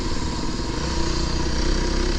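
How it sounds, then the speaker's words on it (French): A Fantic enduro motorcycle engine runs loud and close for the whole stretch, with a raw, aggressive, steady drone that stays sustained throughout and carries no talk. "tu sens vraiment la nervosité, le côté rageur du moteur. On l'entend vraiment."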